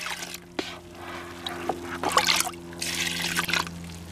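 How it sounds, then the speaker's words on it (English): Water soaks into the soil of a potted Crassula, producing faint trickling, gurgling and small popping bubbles, close and irregular, over a low steady hum. "we're going to listen for air bubbles."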